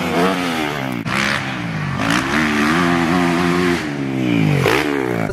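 Motorcycles riding at Parnell's, loud close engine revving that rises and falls in repeated throttle bursts with sharp shifts between them, no voices over the engine noise.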